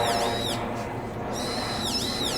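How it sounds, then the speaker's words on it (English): Birds call loudly from the trees in Aoyama Cemetery in Tokyo, two shrill swooping screeches separated by a short pause, ringing over a steady background murmur. "These birds up here are hilarious because all they do is scream all day"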